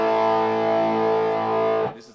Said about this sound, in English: I have a sort of like a neat little overdrive on it here